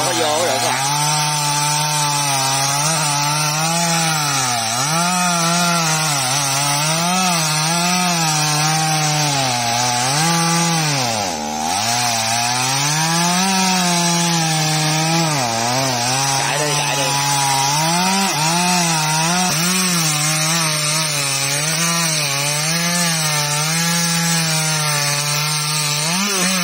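A chainsaw cuts into a large yellow-flowered acacia tree in mountain country, its engine droning loud and continuous with wavering pitch as the blade bites, dipping briefly mid-cut before roaring on.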